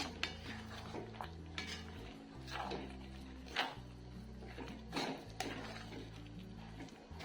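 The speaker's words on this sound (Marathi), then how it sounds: "आणि हे मिक्स करून घ्यायचं" A spoon scrapes and clatters around a pot, stirring a ladoo mixture of milk, cream and sugar syrup with semolina, in repeated close strokes over steady soft background music.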